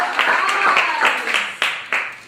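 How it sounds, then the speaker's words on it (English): A small group claps after a vote is read out at a Survivor-style tribal vote, with scattered individual claps that turn into a few sharp, distinct hand claps near the end, alongside some talk. "Clap after each vote, please."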